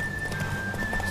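Horse hooves clopping in the video game Witcher 3, a quick run of close hoofbeats over a steady background tone.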